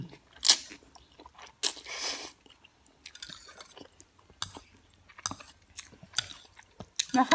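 Someone eats spicy Korean dry instant noodles with squid close to the mic, giving a run of soft bites and wet chewing with a few louder crunchy bursts and brief pauses between mouthfuls.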